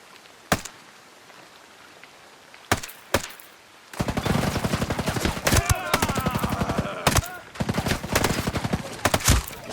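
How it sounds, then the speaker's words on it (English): Three-round bursts of rifle fire crack out in Ghost Recon Breakpoint, a few isolated shots first, then dense rapid bursts packed together over several seconds, loud and close. "See, 3 round bursts."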